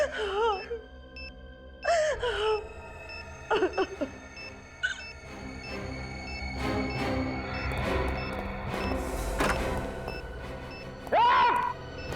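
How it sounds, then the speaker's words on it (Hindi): A person cries in anguished bursts, wailing and moaning with gasping breaths between, loud and close, the sobs rising and falling over roughly twelve seconds amid a tense dramatic scene. "रोने की आवाज?"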